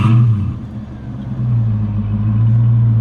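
A Honda Accord engine with a newly replaced fuel pump starts and settles into a steady low rumble close by, growing slightly louder partway through.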